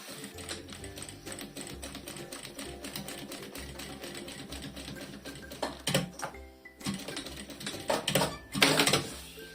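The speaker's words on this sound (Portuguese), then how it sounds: "vou fazer aqui uma costurinha à beirinha só para prender esta parte" A sewing machine runs a short edge seam on a zipped cosmetic bag, joining synthetic fabric, with a steady rapid mechanical stitching rattle throughout and a few louder bursts near the end.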